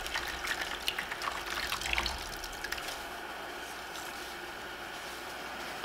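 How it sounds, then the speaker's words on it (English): A painting sponge rinsed under running tap water while faux marbling, a steady close splashing and gurgling flow that is slightly louder at first, then settles into a continuous quieter stream. "Rinse it out."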